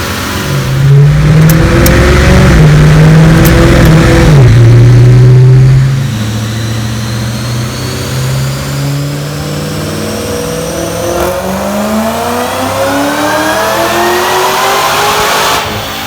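A Brenspeed-built 3V Ford Mustang with an automatic transmission roars through a full-throttle dyno pull, loud and close, pitch climbing steadily before it drops off and the engine settles back down.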